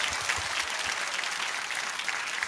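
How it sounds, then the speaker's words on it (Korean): A church congregation claps together in a dense, steady burst of applause that fills the room and stays even and loud throughout, without speech. "그러면 하나님께 영광의 박수 드리겠습니다."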